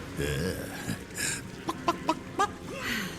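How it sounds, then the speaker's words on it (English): Chicken-like clucking from a character in Guild Wars 2: a string of short, sharp clucks and squawks in an uneven rhythm, close and fairly loud, with a brief voiced sound early on. "we get these cool chicken noises to come from the guy"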